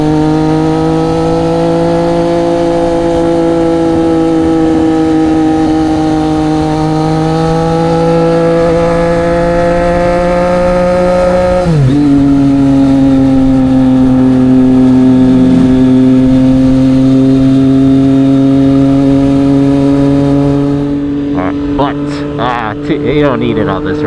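A Triumph Street Triple 765 RS motorcycle on a twisty road, its engine droning steadily with shifting pitch, then briefly dropping and settling again, loud and close under wind, with faint clicks near the end.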